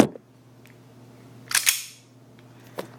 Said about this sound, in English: give me one moment while I just rack the slide